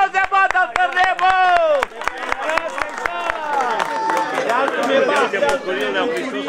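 Wedding guests clapping in a steady rhythm at a celebration, sharp evenly spaced claps under loud overlapping chatter and excited voices.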